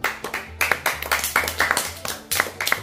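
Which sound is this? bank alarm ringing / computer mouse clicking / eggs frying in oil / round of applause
round of applause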